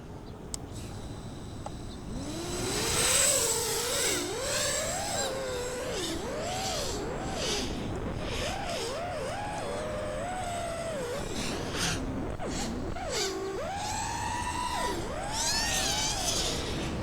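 FPV quadcopter drone with 2205 2300kV motors and GemFan 5042 props flies on standard default PIDs, its motors whining in a sweeping, rising and falling pitch as throttle changes, continuous and fairly loud throughout.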